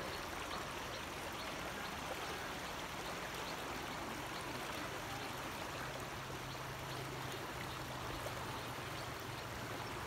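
A fast-flowing, low dry-season river rushes beneath a bamboo bridge in Luang Prabang, Laos, giving a steady, dense wash of moving water that continues unbroken throughout, with no voices.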